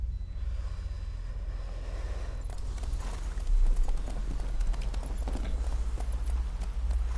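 Horse hooves clip-clop steadily in The Witcher 3, a continuous rhythmic trot under a low rumbling ambience that grows slightly louder midway, with no voices.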